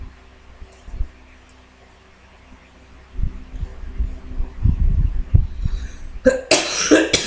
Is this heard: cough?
yes